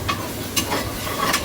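Onions sautéing in a pan for mutton kulambu, a light sizzle broken by a few sharp stirring scrapes and taps of a spoon, close and alone.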